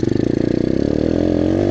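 A 125cc pit bike engine revs hard during a clutch-pop wheelie strength test, a loud close buzzing drone with rapid firing pulses that climbs quickly and then holds at a steady high pitch.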